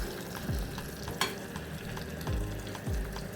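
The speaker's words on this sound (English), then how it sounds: "let this go and saute down" A Jamaican-style rice dish sautéing in a pan gives a quiet, close sizzle with a few low knocks and scrapes of stirring, no voices.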